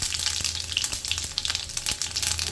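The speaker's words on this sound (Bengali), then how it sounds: "তেল গরম হয়ে গেছে। এবার এটাতে ফোড়ন দিব শুকনো লঙ্কা, তেজপাতা।" Dry red chillies, bay leaves and cumin sputter in hot oil for a tempering, giving a close, bright crackle with scattered pops and a faint low hum underneath, and no one talking.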